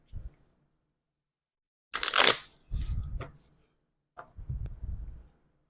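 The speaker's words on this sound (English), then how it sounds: "I will shuffle the cards and start dealing" Three brief bursts of playing cards being shuffled, crisp riffling separated by quiet gaps, close and fairly soft.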